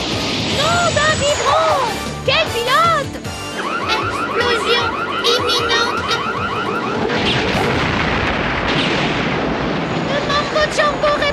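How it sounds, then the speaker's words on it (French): Cartoon sound effects build up to an explosion: rising and falling whistles and warbling alarm tones lead into a sudden boom around the middle, followed by crackling debris and more bleeping effects, loud and busy throughout. "Explosion imminente."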